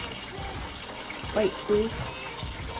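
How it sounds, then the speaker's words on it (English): Oxtails rinsed under very cold running tap water, a steady close splashing stream with a couple of brief louder gushes, while a person talks over it. "just run the oxtails over extremely cold water"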